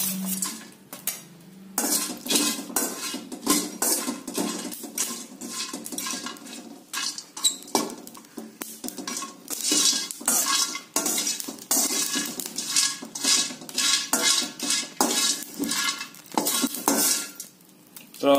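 Mace being stirred and dry-roasted in a pan for biryani masala powder, with steady scraping and clinking of a metal spoon against the pan and a faint sizzle, close and continuous, without talk.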